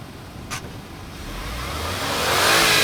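Nissan Magnite SUV engine revving up as the accelerator is pressed, a low mid-range drone that swells steadily louder over a few seconds, with a brief click near the start.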